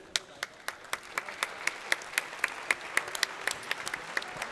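Scattered applause from a small audience at a sim racing expo, with sparse, uneven individual claps that thin out and fade over a few seconds.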